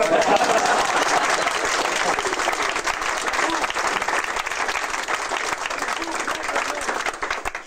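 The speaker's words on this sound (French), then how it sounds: "On peut applaudir." At a Rabelais-themed festival, a crowd breaks into full, dense applause that carries for nearly eight seconds, loud at first and easing slightly, with some voices mixed in.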